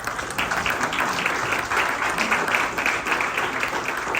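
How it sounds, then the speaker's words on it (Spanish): Sustained applause from a church congregation during a worship service, dense steady clapping from many hands filling the room, moderately loud and continuous throughout with no clear pauses. "Un aplauso a su gloria."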